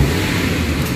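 Toyota Avanza automatic engine with low power and delayed throttle, revving loudly and steadily in a continuous low rumble with no speech.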